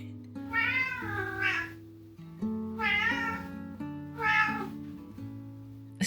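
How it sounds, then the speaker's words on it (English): A cat meows three times in long, drawn-out, whiny calls, each rising and falling, close up and loud, with short pauses between and a steady low hum underneath. "He'll meow in my face to make sure I take care of him first."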